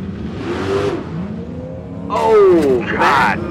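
The Scamp, a drag racing car at the Street Car Super Nationals in Las Vegas, launches down the strip with a rising engine roar that builds sharply in the second half, loud and up close under an excited announcer's commentary.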